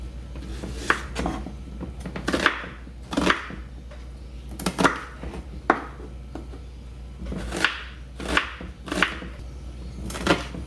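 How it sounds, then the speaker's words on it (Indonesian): A knife slicing onions on a cutting board, a series of crisp, fairly close chops arriving in irregular clusters with short pauses between them, no talking. "Ini diiris seperti biasa aja lah ya, bawang bombaynya nggak ada yang istimewa"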